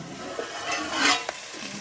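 Spatula stirring chicken fry in a kadai over low flame, a soft sizzle with a brief scrape and a light knock, close and fairly quiet.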